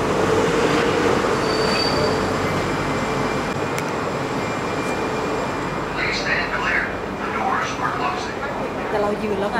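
A Los Angeles Metro subway train is in motion: a loud, steady rumble of wheels on track with a thin squeal running through it, heard from inside the car, and voices are faintly present under the noise.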